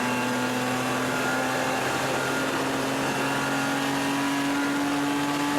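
BMW E30 race car engine in the Castrol BMW Race Series, heard on board during a race: a loud, continuous, steady engine drone with a constant pitch filling the whole stretch, with no talk.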